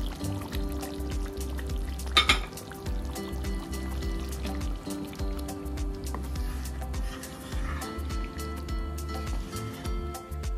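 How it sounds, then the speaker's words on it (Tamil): Coconut milk poured into a simmering chicken and potato curry, a soft wet trickling and dripping with a brief splashy burst early on, close and quiet with faint background noise. "கோகனட் மில்க் எடுத்து வச்சுட்டு 1 கப் அது இதில் ஆட் பண்ணு"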